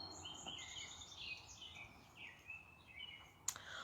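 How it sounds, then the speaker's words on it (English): Faint birdsong chirps and trills in a yard over a soft outdoor hiss, with several birds calling at once and a sharp click near the end. "Can you guys hear the birds singing?"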